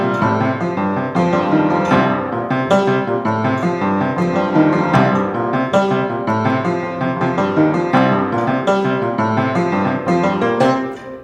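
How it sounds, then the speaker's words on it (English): A busy harpsichord figure repeats steadily over a deep, pounding drum beat in a musical theatre score, loud and continuous throughout. "that deep drum beat and the repetitiveness of the harpsichord part"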